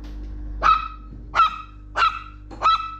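A small Russian Toy Terrier lets out four sharp, high yapping barks at a steady interval while eating, each one short and close, with no talking between them.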